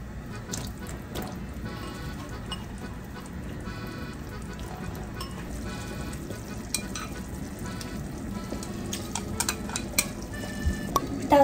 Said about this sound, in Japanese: そしてここにじゃがいも入れます